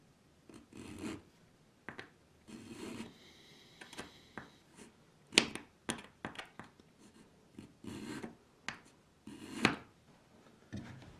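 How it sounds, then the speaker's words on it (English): Plastic filed gently by hand for a model car barn roofwalk, with short, quiet rasping strokes coming in an irregular series, close and faint, alone. "When you file plastic like this"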